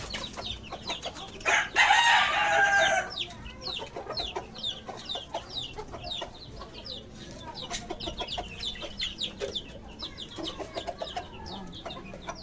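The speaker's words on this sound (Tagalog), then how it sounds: "pakainin ko na yung mga manok ko" Chickens clucking busily all around while being fed, close by, with a loud rooster crow early on and scattered pecking and scratching sounds.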